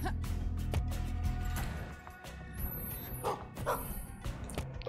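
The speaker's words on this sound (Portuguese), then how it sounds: "Oh, está ali um cão, um corgi." A corgi barks in the side-scrolling game Gestalt: Steam & Cinder, giving a few short yips over steady game music and effects, with a faint voice under the mix.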